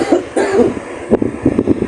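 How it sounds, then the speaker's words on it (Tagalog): A person nearby coughs several times in short, close bursts, sharp and fairly loud, with brief gaps between them. "Sorry guys kung may narinig kayo umubo"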